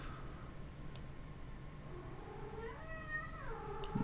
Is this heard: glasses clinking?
no